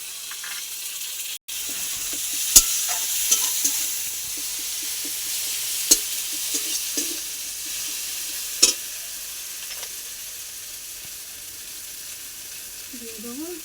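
Onion and tomato frying with dry chilli and ginger-garlic paste for a Bhola fish jhal sizzle steadily in a pan, with occasional sharp clicks of a spoon stirring against the metal.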